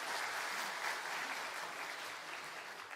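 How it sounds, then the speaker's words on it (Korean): Church congregation clapping steadily after a child's scripture reading in a Sunday school service, a dense, even, moderately distant patter that holds for the whole stretch without talk. "박수 한 번 더 부탁드리겠습니다."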